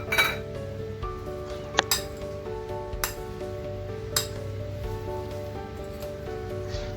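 A spoon mixes a few dates into an instant mango pickle, clinking against the container in a string of bright, irregular taps and scrapes, close and clear with no talk.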